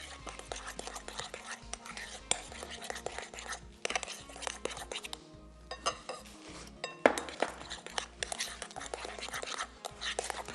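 A cream cheese mixture being stirred in a bowl, close utensil clinks and scraping against the dish in an uneven rhythm, with a soft whispering voice partly audible beneath.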